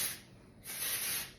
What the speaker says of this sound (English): you can add a bit of texture spray.